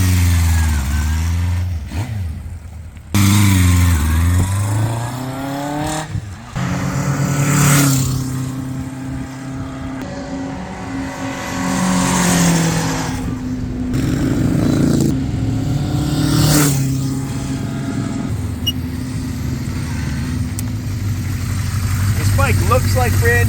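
A 1977 Honda CB550 Four Super Sport inline-four motorcycle engine idles and revs steadily outdoors, with several blips of the throttle rising and falling under a continuous close-up running note.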